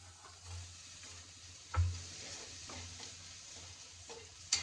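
Ginger and garlic frying in oil in a pan for a curry, a low steady sizzle with occasional stirring scrapes and a soft utensil knock, close and quiet with no talking.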